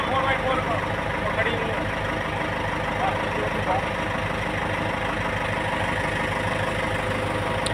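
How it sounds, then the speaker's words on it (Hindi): A 2003 Eicher 485 tractor, an early model of that line, idles steadily with a continuous low engine rumble at close range, while people talk over it throughout. "ट्रैक्टर स्टार्ट हो गया"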